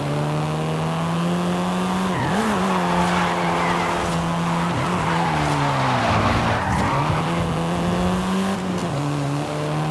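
A Volkswagen Golf R in Forza 5 drives hard with its engine droning loudly and close while the tires squeal and skid through several corners, the engine note dipping and recovering each time.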